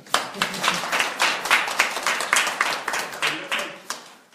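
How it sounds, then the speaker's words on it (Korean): A small audience at an open-source software discussion forum claps, a modest run of uneven, distinct hand claps close by, with some speech mixed in. "박수 한번 쳐주시죠"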